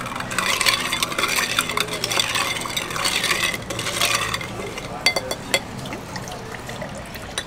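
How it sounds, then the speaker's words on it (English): A ribbed spoon stirring a sparkling apricot, strawberry and rosemary drink, with bright clinking, fizzing and liquid swirling up close, fading to a few sparse taps and trickles toward the end. "Now we have a ribbed spoon to stir our drink."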